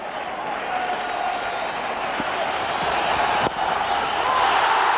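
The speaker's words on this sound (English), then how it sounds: "The crowd's gone wild" A stadium crowd at a 2002 India vs England one-day cricket match in Kolkata erupts after a caught-and-bowled wicket, with sustained loud cheering and applause.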